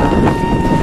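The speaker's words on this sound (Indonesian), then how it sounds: "Emang angin kencang nih" Strong wind buffets outdoors in a steady, loud rumble, a dense low roar that hits the microphone without pause for the whole short moment.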